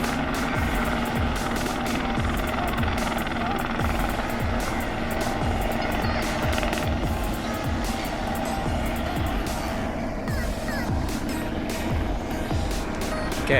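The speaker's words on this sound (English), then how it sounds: "I think there's two actually taking off." Two helicopters lifting off nearby in Jeddah, a steady, loud rotor chop with a rhythmic low thumping that holds throughout, a constant dense roar with slight variation and no clear speech over it.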